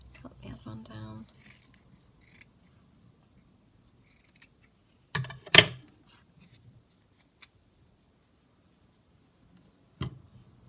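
Scissors snip paper for a handmade junk journal, a few crisp cuts standing out among quiet rustling and brief soft talk at the start.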